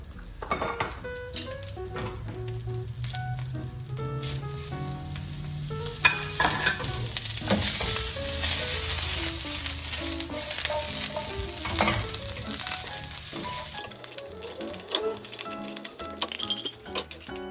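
Butter sizzles and fries in a pan in a commercial kitchen while a utensil stirs and clinks against the cookware, with steady frying hiss throughout.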